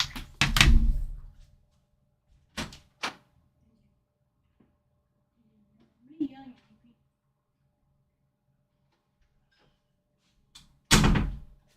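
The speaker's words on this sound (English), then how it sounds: "my tablet knocked off my desk." A tablet knocked off a desk lands with a loud, close thump near the start, followed by a few smaller knocks and a final heavy clatter, with quiet room tone between.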